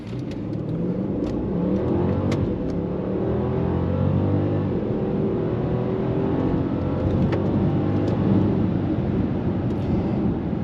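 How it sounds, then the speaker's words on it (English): A Mercedes S560 accelerates at full throttle from 0 to 60, its engine note rising steadily and loudly from inside the cabin with no talking. "Let's take her down to our favorite place and see what she does from a 0 to 60. All right, here we go, full throttle."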